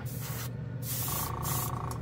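A fine, steady airbrush hiss sprays Tamiya XF56 metallic gray paint in short bursts with brief pauses between them, close up and fairly quiet, with a faint tone underneath.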